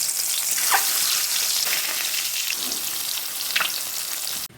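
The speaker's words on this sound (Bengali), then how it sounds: "আমি ডিমগুলো তেলে দিয়ে দিলাম" Boiled eggs coated in turmeric and salt fry in hot oil, giving a loud, continuous crackling sizzle up close. A few brief pops and spatters rise above it until it stops abruptly. No one speaks.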